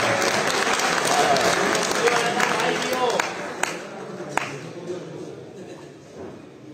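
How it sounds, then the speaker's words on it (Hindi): An audience at a Punjabi mother-language day poetry gathering in Islamabad breaks into applause, a full round of clapping with mixed voices that gradually thins and fades over several seconds. "तालियां यार"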